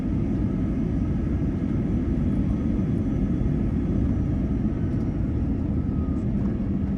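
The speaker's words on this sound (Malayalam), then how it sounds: "ഏകദേശം 8:30 ആയപ്പോഴേക്കും ഞങ്ങളുടെ ഫ്ലൈറ്റ് എയർപോർട്ടിൽ ലാൻഡ് ചെയ്തു" An airliner lands at Da Nang airport in Vietnam, heard as a steady, heavy low roar of engines and rumble, loud and unbroken, with no clear voices above it.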